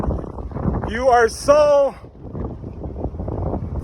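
Strong wind buffets the microphone while running across the Cebu-Cordova Link Expressway bridge, a steady low roar and rumble that persists throughout under a person speaking.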